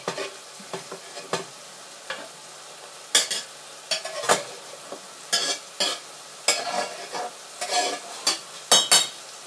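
Chopped strong onion and carrots fry in a pan for homemade curry, a steady soft sizzle broken by repeated bursts of scraping as a utensil stirs them, close and clear with no talk.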